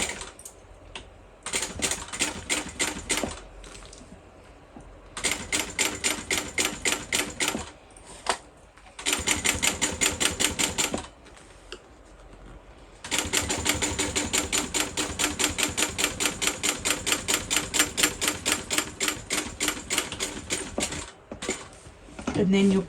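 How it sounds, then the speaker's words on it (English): A sewing machine top stitches a bag flap edge along a zipper at an eighth of an inch, running in several rapid bursts of even, ticking stitches separated by short pauses, close and fairly loud. "We're just going to top stitch that at 1/8 of an inch."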